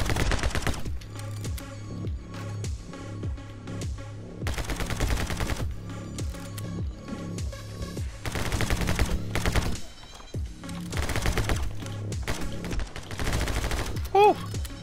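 Rapid gunfire in the video game My Friend Pedro II on PS4 Pro: loud, dense bursts of shots repeat through the clip with brief gaps, over game music.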